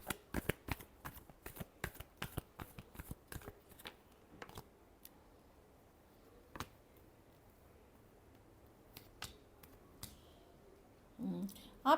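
Tarot cards being shuffled by hand in a quiet room, a rapid run of crisp riffling snaps at first, then slowing to a few scattered flicks and a soft handling rustle at the end.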